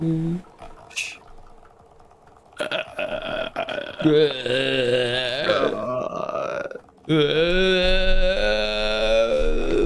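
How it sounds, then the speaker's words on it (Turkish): A person burps loudly in several long, drawn-out belches, close and prominent, with voices and muffled background noise between them. "Geğiriyor."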